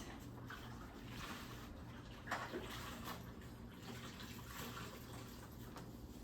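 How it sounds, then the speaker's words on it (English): Hands washed under a running kitchen tap while making a meatloaf, a steady, faint stream of water splashing for the whole stretch with a brief louder splash midway. "Let me wash my hands."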